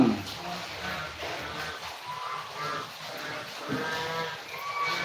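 Cattle lowing at a farm, several drawn-out moos rising over a steady background hum with faint voices mixed in.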